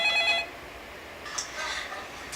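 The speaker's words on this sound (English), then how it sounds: "looks like we have a viewer phoning in right now" An incoming call on a telephone opens with a brief electronic ring tone of a few pulsed beeps, followed by a quieter hiss and faint sounds.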